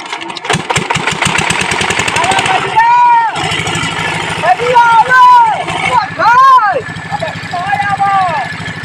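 A diesel irrigation pump engine running beside a wheat field, loud and close, with a rapid chugging rhythm that steadies into a continuous drone while people talk over it.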